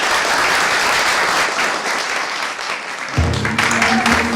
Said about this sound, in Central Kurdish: حەزم لێیە بە چەپڵەکانتان پێشوازی لێ بکەن